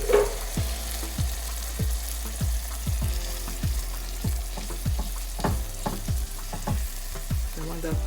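Tomato paste cooking in a pot for spicy fish pepper soup: a steady close sizzle and bubbling, with a regular rhythm of scraping stirs against the pot.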